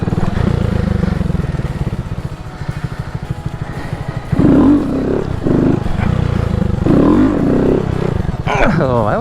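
A Honda Grom motorcycle revs and pulses during wheelie practice, the small engine's throttle blips rising and falling in quick bursts close to the microphone, with a person talking over it at times.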